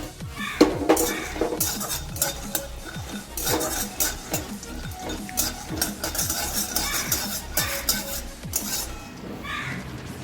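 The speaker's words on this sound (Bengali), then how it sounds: "এখানে গোটা বাদাম আছে, চিনি বাদামটা ড্রাই রোস্ট করে নিচ্ছি।" Whole peanuts are dry roasted in a wok, with a spatula repeatedly scraping and clinking against the metal while the nuts rattle around, the stirring close and continuous.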